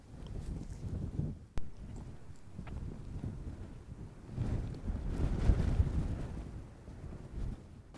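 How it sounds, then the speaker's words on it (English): Wind blowing around a tent at a wild camp on Knockchree, faint gusts rising and falling with soft buffeting and microphone rumble, no voices. "As you can see by the tent, it's still windy enough outside."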